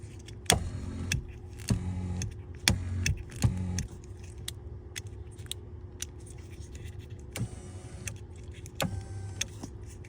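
A newly installed power seat switch being tested in a Chevrolet Colorado, with a run of short clicks and brief electric motor whirs in bursts, then quieter intermittent clicks in a calm interior.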